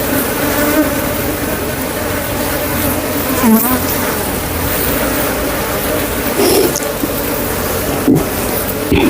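Honey bees swarming at a beehive, a dense continuous buzzing drone close by with occasional louder individual bees passing, no talk.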